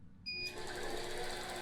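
An APQS computerized quilting machine starts stitching, its motor spinning up after a short quiet moment and then running in a steady, even hum with a fast rapid stitching pulse.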